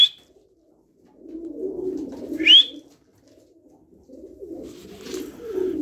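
Pigeons coo in low, soft, throaty murmurs, with a couple of brief sharp chirps nearby.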